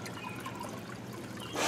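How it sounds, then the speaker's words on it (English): Water trickles and gurgles steadily as it is poured into the exhaust manifold of a Dodge Hellcat engine being fitted to a 1969 Coronet, close and quiet, rising to a louder splash at the end. "We're just filling the exhaust manifold with water and seeing if anything leaks out of the exhaust valves."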